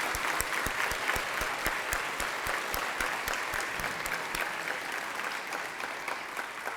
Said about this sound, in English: I really would just like to have a little applause for the team.